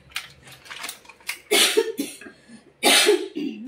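Several sharp coughs, a person with a lingering cold cough, heard as two strong bursts after a few lighter throaty sounds, close and fairly loud with no talk.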